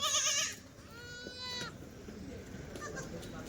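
Young goats of the Kathiawadi breed bleat nearby, one sharp cry followed by a longer wavering bleat, then softer calls, with people talking faintly in the background.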